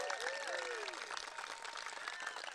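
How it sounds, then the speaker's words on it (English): Steady applause and crowd clapping for graduating high school students at a 2021 graduation ceremony, a dense continuous patter filling the whole stretch with a few faint vocal sounds or whistles riding above it. "could we just hear another round of applause for these wonderful students?"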